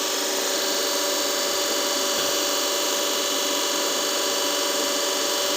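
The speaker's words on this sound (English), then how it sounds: "Now we are going to adjust little more and we are going to check the speed of the motor" A DC shunt motor runs near its rated speed on a lab bench, putting out a continuous, loud, even whine with steady tonal hum and hiss, unchanging throughout with no voices.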